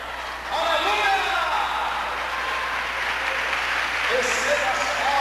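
A church congregation bursts into loud, steady clapping after a brief quiet start, with raised voices calling out over the applause.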